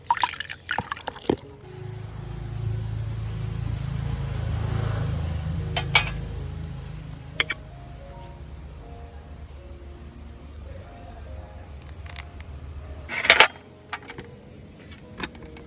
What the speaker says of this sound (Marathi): बोंडू शाप धुवून त्याचे काजी वेगळे करून घेतले.